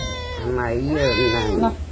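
A cat gives one drawn-out, wavering meow up close, rising and falling in pitch, with a low background hum.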